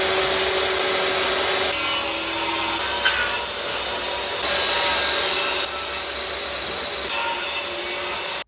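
Half a sheet of plywood being sawn by hand for a DIY built-in sideboard: continuous, close rasping strokes with a steady rhythm, loud and unbroken for the whole stretch.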